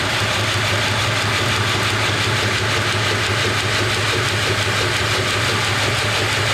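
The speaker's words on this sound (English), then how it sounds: "I'm going to start the grinder and then we can just start our grinding." A belt grinder runs with a dense, steady roar and rumble, loud and continuous with no pauses.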